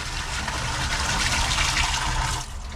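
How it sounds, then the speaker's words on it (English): A toilet flushing at a campsite during a five-day kayak tour in a Swiss gorge, with a steady, loud gush of rushing water held for nearly three seconds before tapering slightly at the end, no voices. "We do our best to flush the toilet."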